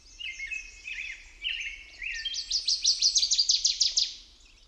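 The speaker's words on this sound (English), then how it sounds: "So this bird sounds pretty normal at regular speed." A single bird sings a quick, high twittering phrase at normal speed that rises into a rapid run of trilled notes, clear and close against a quiet background.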